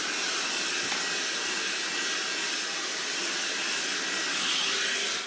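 Hair dryer blowing hot air during heat styling, a loud, steady broadband whoosh held close and unbroken throughout, with no talking.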